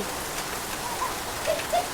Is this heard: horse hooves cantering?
no